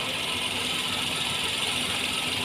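A Hyundai Eon car engine idles steadily with a faint, light knocking running through it, close and continuous with no talk.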